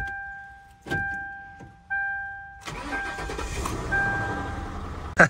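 An old car's engine cranks with a couple of short starter bursts, then catches and settles into a steady idle, heard close up with a chime tone early on and no talking.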